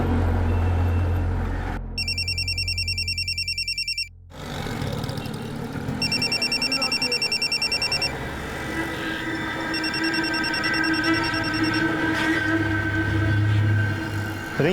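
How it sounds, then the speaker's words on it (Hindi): A mobile phone ringtone rings inside a locked house in repeated electronic trills, a pause between each burst, over a rumbling background of passing traffic. "फोन की रिंग घर के अंदर बज रही है।"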